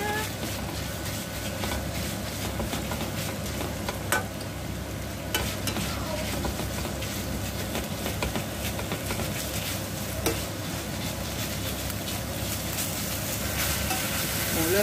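About 300 grams of pork sizzles steadily in a hot pan for a Thai basil stir-fry, a loud, continuous frying hiss with faint stirring scrapes and no talking.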